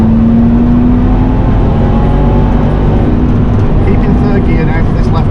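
A car engine droning hard in third gear around the Nürburgring, a loud steady low hum with a slowly shifting pitch, the whole stretch dominated by the engine while a voice talks over it.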